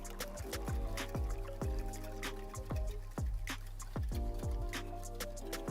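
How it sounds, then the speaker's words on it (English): Whole milk poured into a mac and cheese mixture, a steady liquid trickle with repeated dripping, splashing plops at close range and no voices. "now we want to add this, which will be our whole milk, right"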